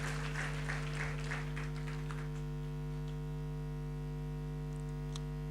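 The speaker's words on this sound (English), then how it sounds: "More applause to our children for those very good recommendations" Applause for children at a devolution conference, a brief patter of clapping in the first couple of seconds that fades out under a steady electrical hum.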